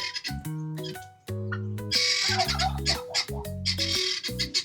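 Several turkeys gobble and call over one another in rapid warbling bursts at a farm, close and loud, with no speech.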